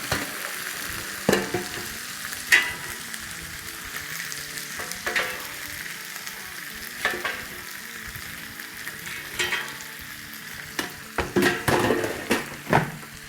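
Kebabs fry in a hot pan of oil for a Kabab 65 dish, giving a steady crackling sizzle. Spatula strokes scrape and clink against the metal at intervals, and no one speaks.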